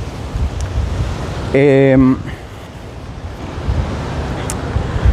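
Steady wind buffets the microphone outdoors during a walk among buildings, a continuous broadband rush running the whole time, with a brief voice sounding near the middle.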